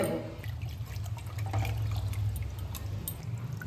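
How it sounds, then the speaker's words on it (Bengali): Bottle gourd leaves are swished and rinsed in a basin of water, giving a steady close wash of sloshing and trickling with no voices. "এইভাবে ধুয়ে নিলে পরে লাউ পাতার মধ্যে যে পোকামাকড় থাকবে সেটাও বার হয়ে যাবে"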